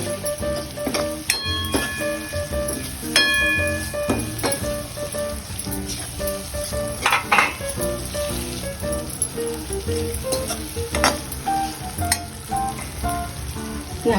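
Chopped tomatoes fry in a pan over high flame for Mumbai street-style pav bhaji, a steady close sizzle and crackle running throughout with occasional stirring scrapes and clinks.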